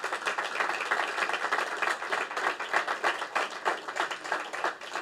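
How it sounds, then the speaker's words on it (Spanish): A church congregation at a Sunday service applauds together, a steady dense wash of clapping lasting throughout with a rhythmic pulse, fairly even in loudness and with no voices over it. "¿Cuántos pueden dar un aplauso al Señor Jesucristo?"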